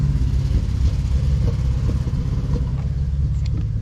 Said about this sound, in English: 6 liters ain't supposed to be knocking and sputtering and spewing like that.